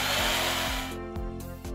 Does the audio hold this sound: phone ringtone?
no